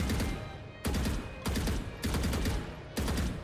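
Sustained automatic gunfire during recoil control practice in Valorant. Four or five loud, close bursts repeat in a steady rhythm with short gaps between them, and no talking over it.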